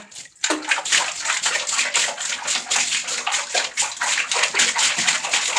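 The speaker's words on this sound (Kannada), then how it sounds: "ಎಲ್ಲ ನೀರು ಚೆಲ್ಲೋಯ್ತು" A child splashes water loudly in a bathtub, continuous choppy splashing with spills, close by and steady throughout.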